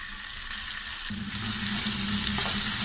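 Cumin and ginger-garlic paste fry in a spoonful of hot oil for a peas and papad curry, a close, continuous sizzle that jumps louder about a second in and keeps crackling alone.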